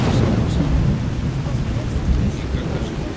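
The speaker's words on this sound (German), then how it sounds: "Langsam nervt das Gewitter" Thunderstorm in the video game Skyrim: a steady, loud wash of rain and rumbling thunder fills the whole clip without a break, and no one speaks.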